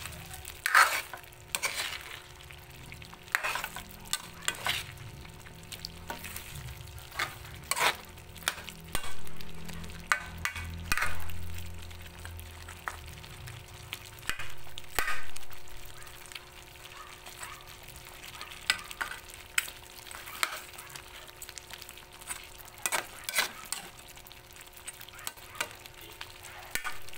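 Pork rib kaldereta is stirred in a sizzling pan, with a steady close fry hiss, repeated scrapes and knocks of the spoon, and some thicker bubbling and sloshing through the middle.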